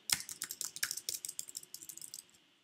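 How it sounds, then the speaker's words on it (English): A rapid run of keystrokes on a computer keyboard, with close, crisp clicks in a quick uneven rhythm that slows and fades near the end. "Start typing."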